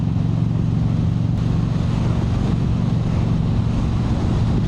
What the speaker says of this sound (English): it just feels like this exhaust has such a heavy drone to it